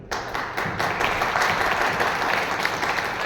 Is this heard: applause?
yes